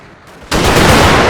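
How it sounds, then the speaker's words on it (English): Musket and cannon fire from a forest battle in Total War: American Civil War multiplayer: near silence, then an abrupt burst into a dense, continuous roar of overlapping volleys that stays loud throughout. "It's very strange to hear different gun sounds going off."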